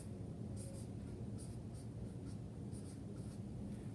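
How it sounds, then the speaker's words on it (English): A marker writing along a board makes soft, faint scratchy strokes in short bursts over a low steady room hum, with no talking. "I'm going to write it along here"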